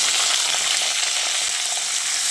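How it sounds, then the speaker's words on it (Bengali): Cut flat beans frying in oil with nigella seeds and slit green chillies, a dense, loud, steady hiss of sizzling at close range, without speech. "ফোড়নের সঙ্গে হালকা করে ভেজে নেবো শিমটাকে"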